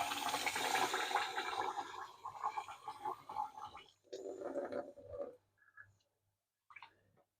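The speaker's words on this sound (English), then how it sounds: "rice வந்து ஒரு 4 or 5 times நல்லா வாஷ் பண்ணிக்கலாம்." Rice for biryani being washed by hand in water, with sloshing, swirling and trickling close up that fades into sparse splashes and a final drip-like sound.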